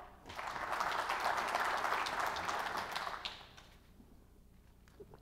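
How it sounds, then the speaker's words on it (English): Audience at an Oxford-style debate applauding, a steady burst of clapping that swells in and holds for about three seconds before fading to a quiet room. "please, a round of applause to cheer him on"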